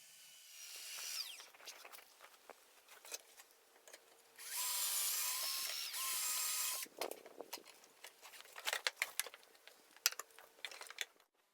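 A power drill bores pocket holes with a Kreg jig in pallet wood for a sofa table, running in one sustained whine of a few seconds amid quieter clatter of handling the boards and tools.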